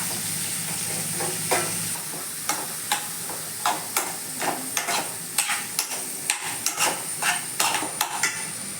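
Onions fry in a little ghee with a steady sizzle at close range, interrupted by regular scrapes and taps of a spoon stirring the pan.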